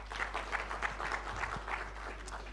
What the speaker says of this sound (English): a warm round of applause for what we're experiencing this morning